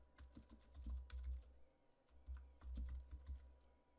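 Code being typed on a computer keyboard in soft, irregular bursts of key clicks, close but quiet, with short pauses between runs and no one talking.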